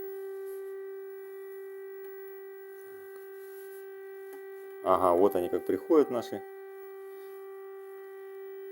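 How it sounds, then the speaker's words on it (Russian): An air raid siren in Ukraine sounds during an alert as a sustained, steady, fairly distant tone that runs unbroken throughout, while a voice speaks briefly over it in the middle. "Сирена еще до сих пор воет"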